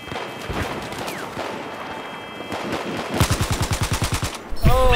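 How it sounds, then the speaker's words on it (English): Bipodded MG4 machine gun in Battlefield 4 fires a steady, loud rhythmic burst of rapid shots near the end, after a stretch of mixed game noise and other distant gunfire. "He's got a bipodded MG4 in the pillbox"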